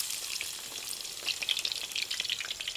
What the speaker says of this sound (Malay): Tumis sehingga bawang-bawang ni keperangan.